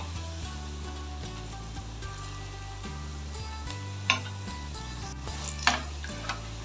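Cauliflower 65 pieces frying golden in hot oil give a steady, close sizzle throughout, with a few faint clinks of utensils and no talking.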